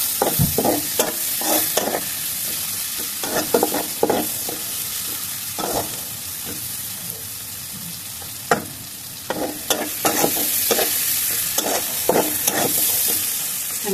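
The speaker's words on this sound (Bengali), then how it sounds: "আমি পেঁয়াজটা একটু ভালো করে ভেজে নিব" Onions frying in oil in a pan, with a steady sizzle throughout and repeated sharp scraping and clattering bursts as they are stirred, close and fairly loud.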